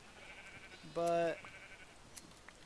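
A single close sheep bleat in Minecraft, one wavering call just under half a second long over quiet background, with a voice speaking briefly.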